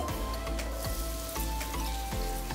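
Onion sizzles in a pan of oil for a tomato-onion gravy, a steady frying crackle with a few clinks and stirs throughout.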